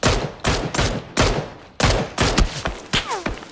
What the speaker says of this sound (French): Ah, ça tire côté nord.